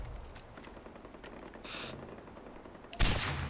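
Gunfire in the video game Far Cry 4: a background bed of action, then a sudden sharp burst of loud shots near the end.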